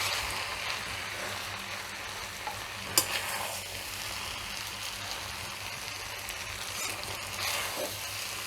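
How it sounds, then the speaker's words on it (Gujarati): Maggi noodles and vegetables are slowly stirred in a pan, giving a soft continuous sizzle with faint scraping and shuffling of the mix, plus one sharp clack of the spoon partway through. "શાકભાજી અને મેગી બધું મિક્સ થઈ જાય એ રીતે ધીરે ધીરે ફેરવવાનું"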